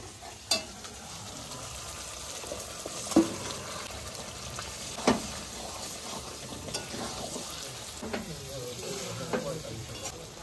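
Duck meat dropped into a pan of fried ginger, garlic, turmeric and spice paste, giving a steady close sizzle with a few sharp spits and stirring clatters over about ten seconds.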